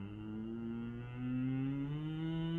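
A person hums steady sustained tones inside a bathroom stall with steel walls on both sides, the pitch shifting once and the sound swelling louder and resonant in the second half.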